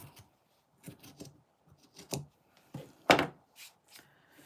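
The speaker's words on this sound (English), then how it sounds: "So I'm just going to cut directly up to the top." Scissors snip through fabric scraps in short, separate bursts of crunchy cutting, close and fairly quiet, with gaps of silence between strokes.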